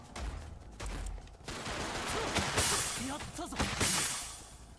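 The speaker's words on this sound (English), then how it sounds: "we're dealing with a sniper" Sniper gunfire in a JoJo video game: loud, sharp reports and noisy bursts over several seconds, mixed with game effects while a voice talks.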